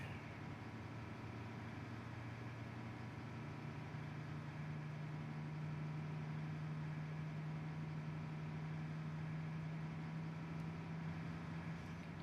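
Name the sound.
airliner engine spinning up in Microsoft Flight Simulator video game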